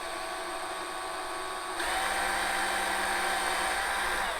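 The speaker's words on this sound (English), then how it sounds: "I'm going to just go through and again drill the pilot holes where we marked from before" A steady high-pitched whine of a power drill running continuously while drilling pilot holes, its pitch shifting and loudening partway through as it bites into material, close by.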